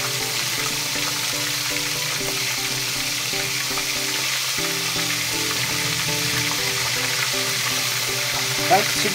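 Shrimp sizzling in hot cooking oil for salted egg shrimp, a constant dense frying crackle held at a steady level throughout, with faint background tones beneath and a small clink near the end.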